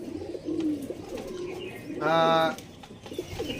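Pigeons kept at a house coo once, a clear, close, mellow throaty call lasting about half a second amid quiet background rustle.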